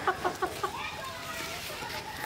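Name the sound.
chickens and rooster clucking on a small farm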